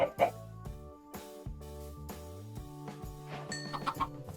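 Minecraft chicken clucks pop up over steady synthesized background music, with a voice talking along; the clucks are short and scattered.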